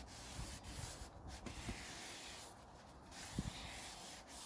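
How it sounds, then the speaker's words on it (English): Brake cleaner sprayed onto a Citroen Berlingo clutch during a clutch replacement, then wiped: broad hissing sprays and rubbing, quiet and close, with a soft knock near the end. "give this a good clean, some brake cleaner, nice healthy squirt"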